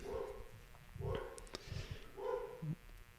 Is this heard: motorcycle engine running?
no